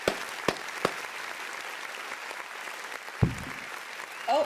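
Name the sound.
audience applause for a webinar team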